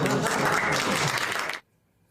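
An audience applauds steadily, a dense wash of many hands clapping at moderate distance, sustained for about a second and a half before cutting off abruptly into near silence.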